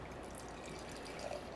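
A 16% Evil Twin & Lervig Big Ass Money Stout pours into a glass with a soft, faint, continuous liquid gurgle close by, with no talking.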